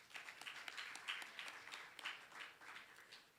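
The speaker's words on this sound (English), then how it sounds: "A big round of applause for all of our distinguished dignitaries" An audience claps for dignitaries at a G20 interfaith forum in Pune, India, with steady, fairly faint applause from a crowd that continues throughout.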